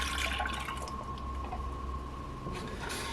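Whole milk poured into a saucepan for tornado ice cream, a soft continuous liquid splash and gurgle that fades slightly, then swells again near the end.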